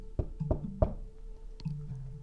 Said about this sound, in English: she heard a knock on the door